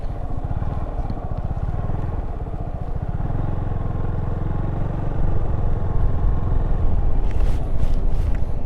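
A motorcycle ridden by a learner, its engine a close, steady throbbing drone under heavy wind rush. The pitch and loudness rise slightly near the end as it picks up speed.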